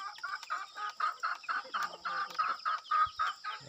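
Chickens cluck in a steady, rapid series of short calls, close by, with no talking.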